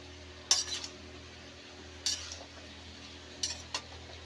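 Carrot, pumpkin, eggplant and slit green chillies being stirred in a pan, with three quiet, sharp metallic clinks of a utensil against the pan spaced apart over a low steady background.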